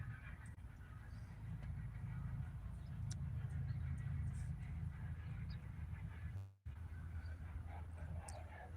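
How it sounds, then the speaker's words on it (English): A train passes on railroad tracks not far away, heard as a steady low rumble that swells and holds under faint background noise, with a brief dropout near the end. "then we hear a train all the time because we're not too far from the train tracks"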